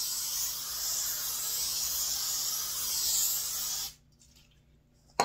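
Cooking spray hissing steadily onto a baking pan for oven fries, a continuous close, bright spray lasting about four seconds before cutting off abruptly into quiet.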